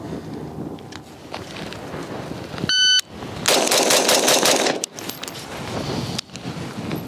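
Rifle with a muzzle device fired at a shooting range: a shot-timer beep, then a loud, close, rapid string of shots, followed by a few quieter clicks and handling noises.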